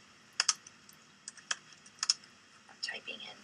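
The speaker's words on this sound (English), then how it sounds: "I'm typing in take out" Light, irregular keystrokes tapping on a computer keyboard in short bursts, close and fairly quiet.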